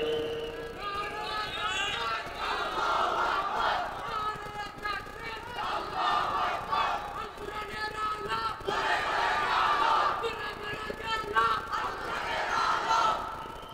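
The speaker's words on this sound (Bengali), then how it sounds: "উলামায়ে কেরামদেরকে একজন নারায়ে তাকবীর দেন তো" Large crowd at an outdoor Islamic waz sermon gathering raising loud, sustained collective chants of the takbir slogan in repeated surging waves across the whole stretch, voices blended and dense.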